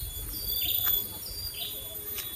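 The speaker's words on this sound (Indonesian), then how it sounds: "tuh teman-teman bisa dengar sendiri ya suara burung ini mah teman-teman" Birds sing in a rural village, thin high chirps and whistled calls fairly near over a steady low rumble of outdoor ambience.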